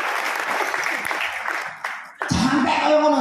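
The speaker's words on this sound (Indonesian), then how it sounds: "Tepuk tangan untuk Pak Haji." A crowd at an Indonesian company gathering breaks into loud, close applause, a dense wash of clapping that dips briefly and then surges back stronger, with talk mixed in.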